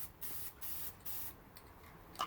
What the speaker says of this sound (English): while I'm trying to spray paint